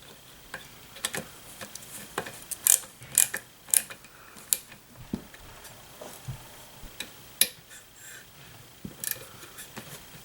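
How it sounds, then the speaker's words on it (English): A socket ratchet tightening a part on a Ryobi 2-cycle leaf blower: a series of sharp, close metallic clicks in short irregular runs, with brief pauses between strokes. "I am going to use my socket and the ratchet there."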